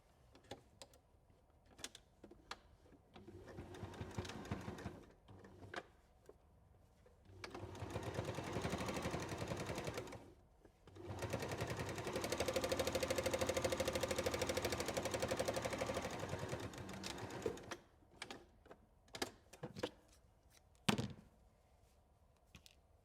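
Sewing machine stitching a seam on a fabric bowl, running in several bursts of steady mechanical whirring, the longest in the middle, separated by pauses with small clicks and thunks.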